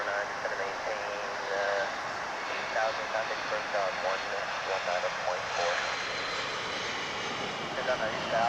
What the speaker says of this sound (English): That, I think, is a 757 UPS flight